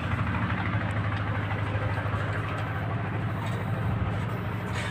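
A boat's lifeboat engine runs steadily nearby, a loud, continuous low rumbling drone with an even mechanical throb and no breaks or speech.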